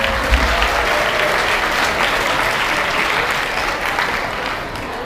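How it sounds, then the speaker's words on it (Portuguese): Audience at an interdisciplinary studies debate breaks into loud, sustained applause, a dense wash of many hands clapping that fills the room steadily before easing slightly at the end. "Palmas para a Jéssica, então."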